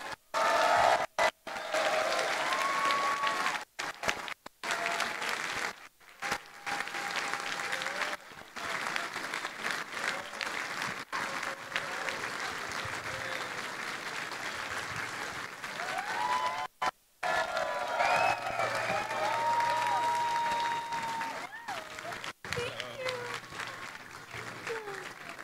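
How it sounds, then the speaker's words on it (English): Audience at a political rally in Montreal gives a sustained, warm round of applause, dense clapping filling the room with brief dips and a few cheers and voices rising through it. "would you all please join me in giving a warm round of applause"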